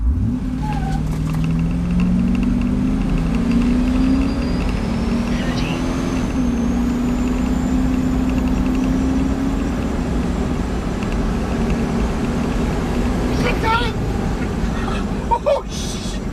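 A 2004 Chevy W3500 cab-over truck accelerates hard from a standstill toward 60 mph, its engine drone holding steady and loud throughout with road and wind rush, a brief clunk near the end.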